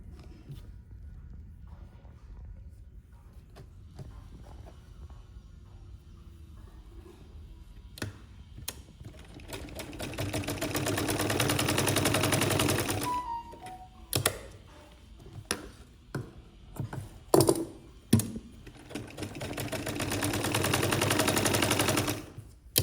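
A sewing machine double-stitches a homemade scarf, running in two sustained whirring stretches with scattered clicks and short mechanical bursts between them, close and moderately loud.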